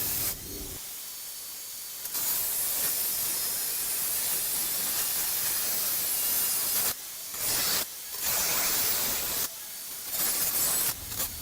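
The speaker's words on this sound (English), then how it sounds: "now he is going to take a angle grinder and cut off the excess" An angle grinder cuts off excess metal while a ring for a medieval castle-style chandelier is being formed. A loud, steady, broadband hissing grind runs in long stretches, broken by short pauses near the end, with no talking.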